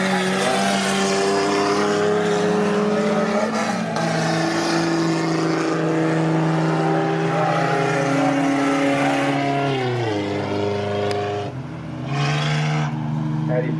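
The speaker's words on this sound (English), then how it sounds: "Watch the 152 yellow and blue VL Commodore." Race cars at a Whyalla track meeting, including a yellow and blue VL Commodore, roar continuously with shifting engine pitch, loud and near, as a commentator talks over the noise throughout.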